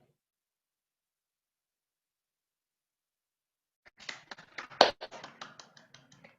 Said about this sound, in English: Please give a round of applause to Choi Hyun-young Choi, the instructor who gave the mind lecture.